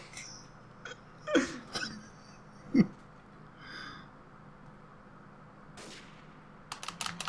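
Gunfire in the shooter game Trouble in Terrorist Town arrives as scattered sharp shots, a few spaced reports followed near the end by a quick cluster of cracks over a quiet background.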